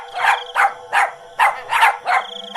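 A dog in an animated story barks six times in a quick, fairly even rhythm, loud and close, with no voices over it.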